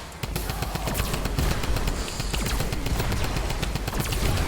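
Typewriter gun in Fortnite Save the World firing in a dense, continuous rapid-fire stream, loud and steady for several seconds with no pauses and no talk.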